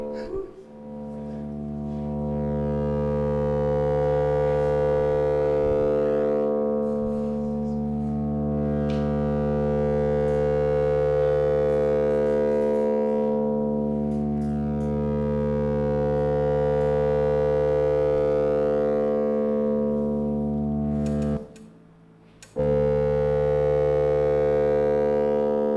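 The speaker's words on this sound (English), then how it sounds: "these are sine waves being generated, and there's LFOs that are controlling the rotation and everything." Synthesized sine waves modulated by LFOs form a sustained, harmonically rich tone that slowly sweeps and pulses, breaking off briefly near the end before resuming, with no voices.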